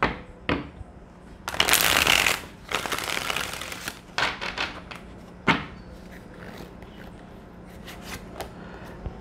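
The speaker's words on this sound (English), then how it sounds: "Let's get one shuffle." Tarot cards are shuffled by hand during a reading, giving several loud, crisp riffling bursts and softer card taps that come close to the microphone and are separated by quiet pauses.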